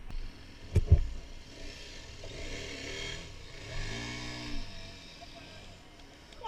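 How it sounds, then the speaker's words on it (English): A big KTM dirt bike engine revs hard off-road, rising and falling in pitch through several bursts, moderately close and loud with rough clatter mixed in. "Amazing where these big bikes can go, especially if you're not afraid of the rev limiter."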